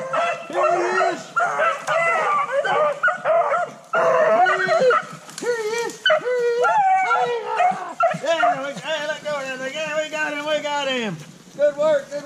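A pack of hunting dogs bays and yelps while chasing a rabbit through mountain woods, with overlapping high howls, whimpers and barks rising and falling, close and loud, and no talk among them.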